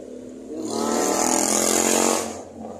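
A single vehicle passes on a road at night near a fishing spot, its engine noise swelling from moderate to loud over about two seconds and then fading away, heard alone without talk.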